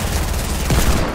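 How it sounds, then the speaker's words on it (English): Rapid bursts of gunfire in the video game Fortnite during a creative-map death match, loud and continuous across the moment with a denser flurry near the end. "Who's shooting?"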